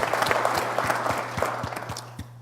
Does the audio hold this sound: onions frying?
no